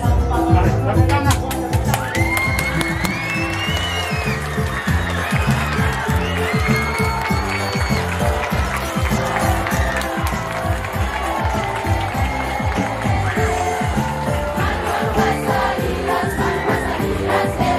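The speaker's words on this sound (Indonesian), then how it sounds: "Mari, tepuk tangan." A school audience at SMPK Santo Yoseph Naikoten claps in a fast, even rhythm during a visit by the NTT governor, loud and close, with excited voices and cheering rising over the beat.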